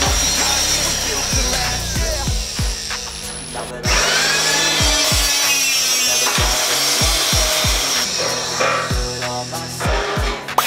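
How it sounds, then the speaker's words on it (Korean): A hole-punching machine working through a steel H-beam on a building site, giving a string of sharp, heavy thumps at irregular intervals over steady grinding and machine noise, with no talk. "H빔 타공에는 오그라사에서 나오는 펀치기을 사용해 타공을 진행해주었습니다."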